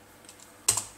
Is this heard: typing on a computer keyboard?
yes